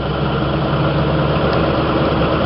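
A 1927 Packard 443 Club Coupe's engine runs at a steady, loud, close drone while the driver double clutches through the gears, with no talking.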